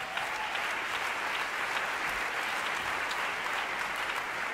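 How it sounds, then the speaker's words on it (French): An audience at a musical-theatre award ceremony applauds continuously, producing dense, even clapping that holds at a steady level with no speech. "On peut les applaudir."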